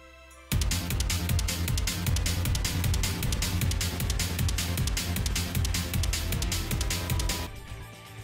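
Dense, driving battle music from the RPG Maker MV game engine: fast, loud percussion and layered instruments start abruptly, pound steadily for several seconds and then cut off, with no talking over it.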